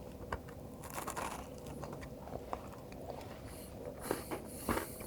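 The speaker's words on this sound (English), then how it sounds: "I'm sure you can hear that crunch" Crunchy bites into a frozen ice cream sandwich made with a thin caramel layer and cookie, giving several faint, close crisp crunches and chewing sounds at irregular intervals.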